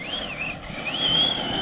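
A small RC truck motor on 8S power whines steadily on a BMX track, its pitch sliding up and down as it revs and eases off, close by with no voices.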